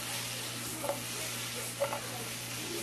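Mixed vegetables sauté in a hot pan for a stir-fry, giving a faint, steady sizzle with two brief clinks of the pan or utensil partway through; no one speaks.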